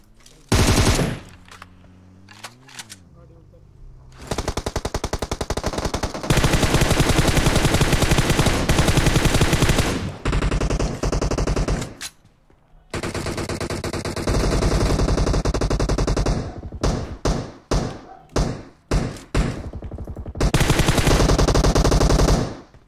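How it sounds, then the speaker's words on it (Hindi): Loud bursts of automatic gunfire from a weapon in a mobile battle-royale video game, long sustained volleys broken by brief pauses and short shots, close and dominant. "अभी तो इसका प्री फायर रुका था, अभी फिर अचानक कैसे चल गया?"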